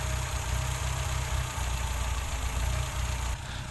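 A car engine with a poorly running Weber carburetor idles steadily with a low, even rumble and faint mechanical knocking, close by with no voices, dropping slightly in level near the end.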